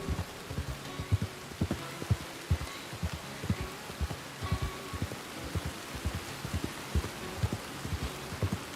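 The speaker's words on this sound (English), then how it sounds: "the rain actually let up and then started again" Steady rain falling in a fantasy role-play video game, soft continuous patter with repeated low thumping pulses running beneath it throughout.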